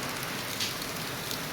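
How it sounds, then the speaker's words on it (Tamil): Heavy rain falls outdoors over a farm garden, a dense, steady hiss of drops striking surfaces, continuous and fairly close with no voices. "நல்ல மழை."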